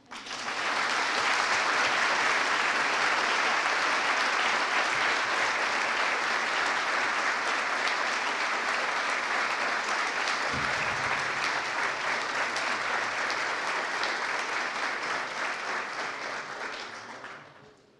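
A hall audience at a citizenship title ceremony in Taubaté claps for Luiz Francisco de Assis Salgado, a loud, even wash of many hands sustained for about seventeen seconds before tapering off at the end.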